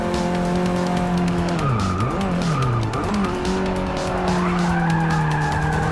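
A Renault 5 Turbo sliding and skidding in Forza Motorsport 6, with continuous tire squeal wavering in pitch over a loud, steady engine drone, close and sustained throughout.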